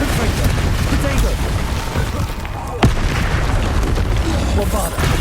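Bombarda explosion spells in Hogwarts Legacy boom through a loud, continuous battle roar, with one distinct sharp blast midway and a shouted voice amid the noise.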